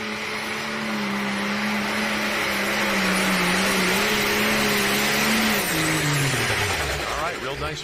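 An Aces Wild pulling tractor at an NTPA Grand Nationals truck and tractor pull in Fort Recovery roars loudly as its RPMs build, then the engine pitch drops as it pulls away down the dirt track, steady and unbroken throughout.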